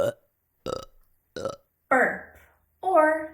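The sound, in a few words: a burp or belch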